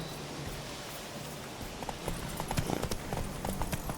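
Horse hooves clip-clopping at a walk in The Witcher 3, a steady rhythm of soft, close hoof falls that grows a little louder and busier in the second half over a faint ambient bed.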